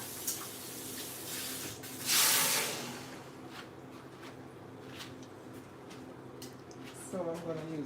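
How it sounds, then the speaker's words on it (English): Kitchen sink tap water sprays in a short loud hissing gush while something is rinsed, then fades to quieter trickles and clatter, with someone speaking. "Let me rinse this off."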